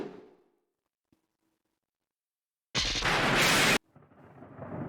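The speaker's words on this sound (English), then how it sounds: "Lightning and thunder struck like an explosion." Thunder sound effect from the Higurashi visual novel game, a sudden, loud, roaring crack-like burst lasting about a second after near silence, followed by a softer rumbling wash.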